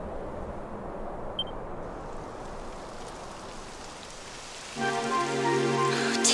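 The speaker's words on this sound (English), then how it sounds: "It would have to go and start raining, wouldn't it?" Steady rain falling in a video game, a continuous hiss of drops across the whole stretch, joined near the end by a louder layer of music or game sound.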